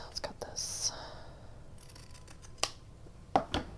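Scissors snip paper for a bird journal ephemera tag, with a few quick close cuts at the start and a couple more near the end over a quiet room, soft whispery movement between them.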